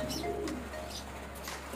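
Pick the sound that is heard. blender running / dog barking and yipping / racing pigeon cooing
racing pigeon cooing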